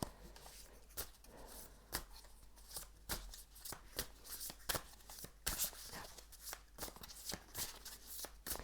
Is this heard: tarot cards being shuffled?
yes